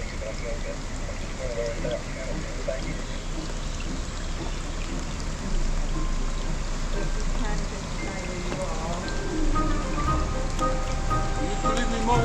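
Rain falls steadily on the cover of a narrowboat, a dense, continuous close patter and drumming that builds slightly louder partway through.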